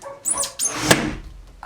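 A dog barks a few times in quick succession, fairly close, with a sharp clatter in the middle.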